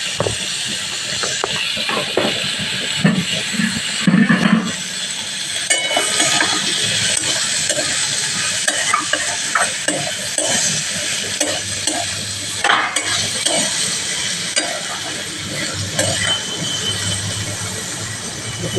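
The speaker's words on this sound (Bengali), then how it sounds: "এবারে হলুদটা দিয়ে আর একটু ভাজবো, দিয়ে আর জল ঢেলে দেবো।" Turmeric frying in a pan of oil while being stirred, a loud continuous sizzle and hiss broken by irregular scraping and clinking of the spoon against the pan, close by throughout.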